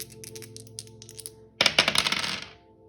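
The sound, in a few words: rolling a die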